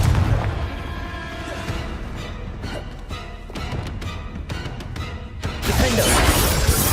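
Confringo blasting spells in Hogwarts Legacy combat, a string of sharp, shattering explosive cracks and booms over rumbling game noise, clustered in the middle and swelling into a louder burst near the end, with no voices.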